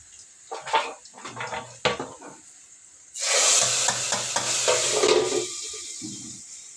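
Dal is stirred in a pan with a few separate clinks and scrapes, then a loud close sizzle bursts up and keeps going under more stirring.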